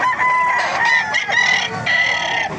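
Roosters crow loudly and repeatedly, with hens clucking close by, amid the busy hubbub of a chicken market in Baliuag, Bulacan.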